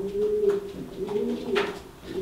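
Pigeons cooing close by in a loft or yard, a steady run of soft, throaty coos repeating without a break, with no talk over them.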